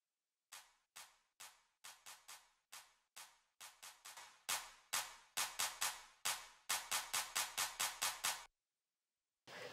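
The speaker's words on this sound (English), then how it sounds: "Then there are build-up claps going on as well." Build-up clap samples in a pop drum track: sharp, bright handclaps repeating in an accelerating roll that grows louder and denser, then stops abruptly before a final clap.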